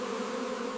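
Honeybees gathering nectar near hives hum in a steady, close, continuous buzz for a brief moment, with no voices.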